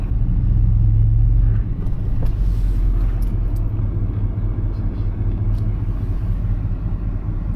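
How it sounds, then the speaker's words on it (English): Lifted truck on a Rough Country 2–3 inch lift driving with tire interference, a constant low rumbling drone from the running vehicle heard from inside, with faint scraping sounds and no clear talk. "There's a grinding noise."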